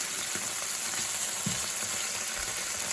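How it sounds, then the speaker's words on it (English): Flat iron steak from IGA frying in a pan gives a steady, close broadband sizzle with scattered sharp pops and spatters of fat throughout, and no voices. "it would be much better to cover it because you see it's splattering everywhere"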